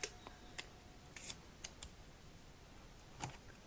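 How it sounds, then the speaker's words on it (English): Pieces of tape ripped off one after another while preparing to reglue loose binding on a 1941 Martin D-28 acoustic guitar, heard as a series of short, sharp tearing bursts close by in a quiet room. "get a couple pieces of tape, rip them off, get them ready"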